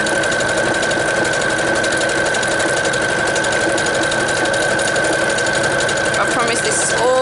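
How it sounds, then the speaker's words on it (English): A sewing machine steadily stitching through journal signatures for an Edith Holden journal, a constant mechanical whir with an even rapid rhythm, loud and close for the whole stretch, with a slight change near the end. "I promise this is all the sewing there is in this."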